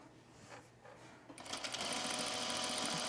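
A sewing machine stitches close to the cut edge of a pair of pants, starting up after a quiet moment and then running steadily and fairly loud to the end.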